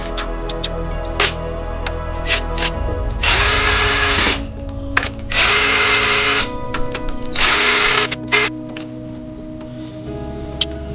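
A power drill or impact tool tightens wheel bearing bolts on a car, with three loud bursts of whirring about a second each, separated by clicks and ratchety handling noises.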